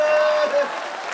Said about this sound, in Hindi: एक लाइन पे पीछे तक की तालियां देखना चाहता हूं